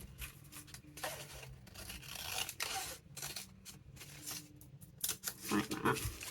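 Scissors cutting through junk mail paper, a few soft, close snipping and crisp rustling strokes at low volume, spaced unevenly with quiet gaps between.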